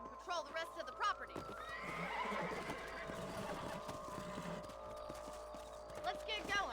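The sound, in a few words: horse neighing and hooves, video game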